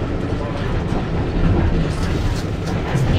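A train hauled by an LMS locomotive rattles steadily along a squeaky heritage line at Ruddington, a loud continuous rumble with clattering from the wheels and carriages.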